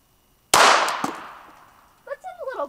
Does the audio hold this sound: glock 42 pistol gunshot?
yes